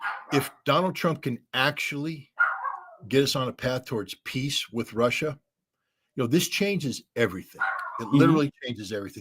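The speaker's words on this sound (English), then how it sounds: "and I apologize for the dogs" Several dogs bark and yip intermittently in the background while a person talks steadily, the barks surfacing in brief gaps and overlapping the voice.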